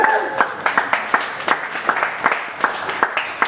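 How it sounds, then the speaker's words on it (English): Comedy club audience in Brisbane's West End applauding a comedian at the end of her set, a steady wash of clapping with sharp individual claps, some cheering voices mixed in, close and fairly loud throughout. "give her a round of applause"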